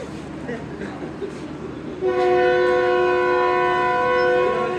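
A Pakistani passenger train's departure whistle sounds at a station before the journey, a loud sustained multi-tone horn starting midway and holding to the end, after a stretch of platform bustle and voices.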